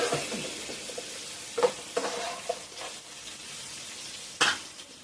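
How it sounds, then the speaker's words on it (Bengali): Potatoes frying in a pan, with a continuous low sizzle and several sharp stirring scrapes and clinks against the pan, close by. "আলু ভাজা আমার হয়ে গেছে, আমি এবার নামিয়ে নেবো।"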